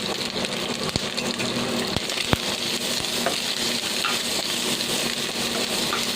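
Tender coconut pieces saute in coconut oil, giving a continuous sizzle broken by a few sharp clicks of a utensil against the pan.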